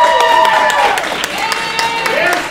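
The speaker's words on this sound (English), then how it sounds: "He got a bigger applause than the mayor." Applause from a crowd, dense clapping heard close, with voices rising over it and a cheer-like tone in the mix.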